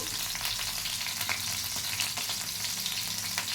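Ginger pieces and cumin seeds fry in hot oil with a steady, dense sizzle and crackle throughout, close and fairly loud, with small pops and a few faint stirring clinks.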